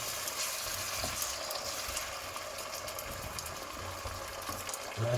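Kidney beans stirred in a hot pan for Jamaican jerk chicken with coconut rice, a steady close sizzle and frying hiss with soft scraping stirs throughout, no talking.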